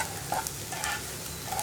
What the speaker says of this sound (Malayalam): ഇനി നന്നായിട്ടൊന്ന് ഇളക്കി കൊടുക്കുക.